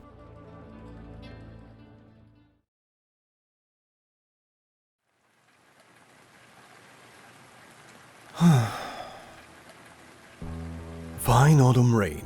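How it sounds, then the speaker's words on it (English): Fine autumn rain in the video game Arknights falls as a soft, steady hiss that follows a stretch of silence, joined by breathy sighs and gasps near the end. "Fine autumn rain continues unabated"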